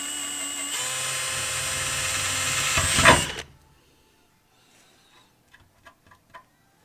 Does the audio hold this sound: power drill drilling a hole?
yes